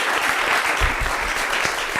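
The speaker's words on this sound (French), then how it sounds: "applaudissez pour moi" An audience at a televised fashion and celebrity show claps in a brief, dense burst of applause close by, with a voice faintly underneath.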